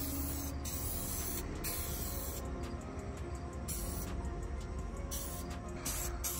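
Spray paint hissing onto Audi A4 Avant B8 interior pillars, a continuous close spray broken by a few brief pauses in the stream, with no talk over it.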